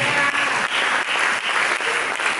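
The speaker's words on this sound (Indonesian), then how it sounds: "Mari kita berikan tepuk tangan" A church congregation during a sermon breaks into dense, continuous applause, loud and close, with no voices over it.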